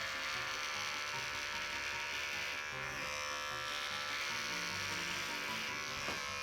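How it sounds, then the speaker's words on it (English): An electric razor shaves hair, a close, steady buzzing drone that runs unbroken from start to finish with no talk. "now I can shave my hair without making an absolute mess on the ground"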